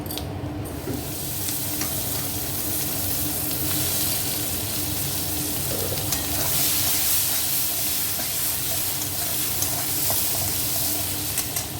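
Onions fry in oil tempered with cumin seeds and bay leaf for a boal fish curry, a loud, continuous close-up sizzle and hiss with stirring scrapes throughout and no talking.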